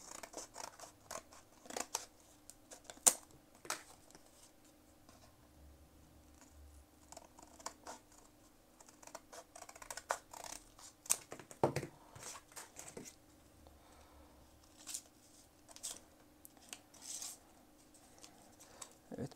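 Scissors snip through material while a knife sheath is made for a survival kit, with irregular close cuts and handling rustles scattered over about twenty seconds, no talking.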